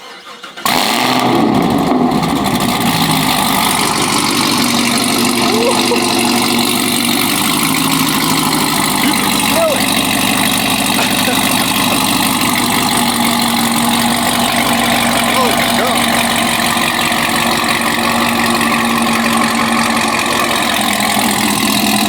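Chevrolet Camaro ZL1 V8 fires up from cold with a sharp burst, then settles into a loud, steady, rumbling idle that holds close and constant to the end.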